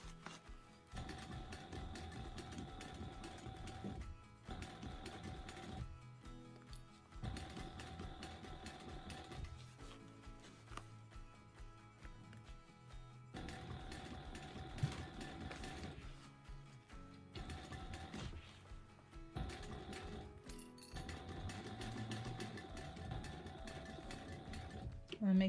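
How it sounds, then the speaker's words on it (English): A sewing machine stitching back stitches on a fabric sling, running in several bursts of steady mechanical whirring with brief pauses between runs, close and clear, with occasional talk over it. "Do a few back stitches."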